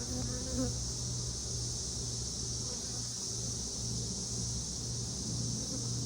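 Honeybees buzzing around a queen cage being pushed into comb in a beehive, a steady close insect drone with a low hum running throughout, no talking.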